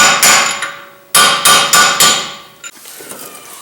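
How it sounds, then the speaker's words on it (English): Sharp metallic hammer strikes on a soft brass punch driving out a 2007 VW Jetta front axle, about six loud close blows in uneven groups with ringing decay, then a fainter tap and quiet scraping. "Use a soft brass punch to slide the axle out slightly so you can reach the bolts behind the hub and bearing assembly."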